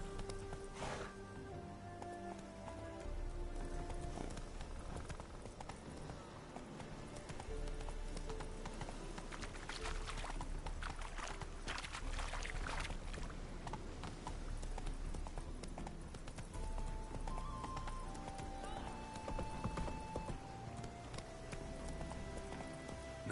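In the video game The Witcher 3, Geralt's horse Roach gallops with a steady, rapid clip-clop of hooves under game music and ambient noise, the pounding rhythm continuing throughout.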